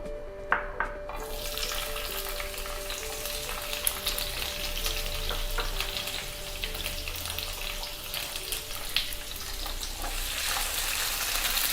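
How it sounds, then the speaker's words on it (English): Capsicum and onion sauté in about a spoon and a half of oil over a high gas flame, a dense and continuous close sizzle that runs unbroken throughout with no talking. "In this, first we will saute the capsicums and the onion bulbs"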